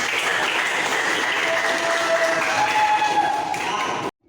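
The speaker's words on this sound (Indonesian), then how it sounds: "Tepuk tangan kita semua" Classroom of schoolchildren applauding together, a dense steady wash of many hands clapping that runs unbroken for about four seconds and then cuts off abruptly.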